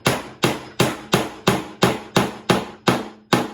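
Nails being driven into a wooden tote box with a hammer: nine sharp, evenly spaced strikes at a steady rhythm, loud and close, with no talking.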